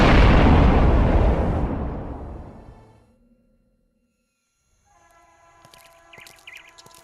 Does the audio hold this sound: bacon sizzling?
no